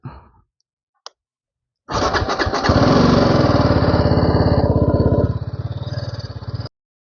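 A motorcycle engine cranks briefly, catches and roars into a loud steady idle close by, then settles slightly lower before cutting off.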